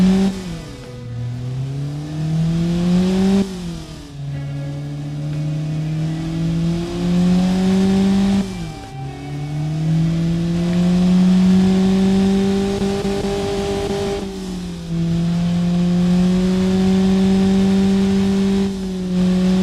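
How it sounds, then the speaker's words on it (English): A tuned stock car engine running advanced ignition timing revs up and settles back in about four long, smooth sweeps, its steady drone rising and falling close by with no talking. "the engine basically sounds the same, but now with bigger bang and much more power"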